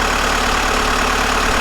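An engine idles steadily at close range, a constant low rumble with an even rhythmic pulse and no revving during the short stretch.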